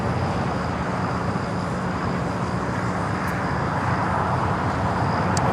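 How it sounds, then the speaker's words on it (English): Boeing 787 Dreamliner taxiing at LAX, a broad, steady jet-engine rumble and hiss held at even loudness throughout, with a faint high whine riding above it. "The Dreamliner continuing down at Bravo,"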